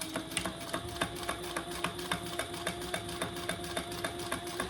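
Sewing machine top stitching through vinyl or cork bag material, a close, steady rapid mechanical rattle of needle strokes with a regular pulsing rhythm, running alone without talk.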